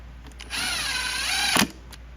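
A power driver whirs for about a second, rising slightly in pitch as it runs steel fine-threaded screws back into the carburetor of a Troy-Bilt TB200. A brief clack follows as it stops, close and fairly quiet.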